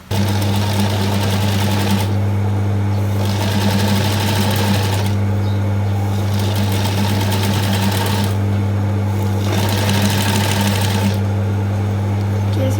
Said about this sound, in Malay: Saya jahit sikit macam ni je.